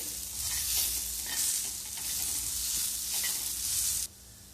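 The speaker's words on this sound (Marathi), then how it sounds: "हे सगळं छान व्यवस्थित आपल्याला मिक्स करून घ्यायचं आहे" A spiced cabbage mixture with garam masala and coriander powder is stirred in a hot pan for paratha, a loud frying hiss with scraping swells that cuts off abruptly near the end, leaving a quieter background.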